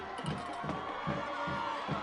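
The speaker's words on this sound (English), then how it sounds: "The crowd comes to life again." Crowd noise at a high school football game between Pekin and Lake Zurich, a steady murmur of spectators with scattered cheers and shouts rising and falling over about two seconds.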